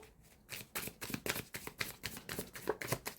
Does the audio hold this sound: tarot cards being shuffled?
yes